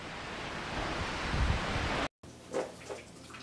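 Strong wind buffets the microphone on a rocky winter mountain slope, a loud continuous roar for about two seconds, then a brief dropout followed by quieter gusty rushing.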